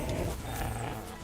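In the video game Kingdom Come Deliverance 2, a dog growls while being struck, a brief, low, rough snarl sitting in loud, dense combat noise.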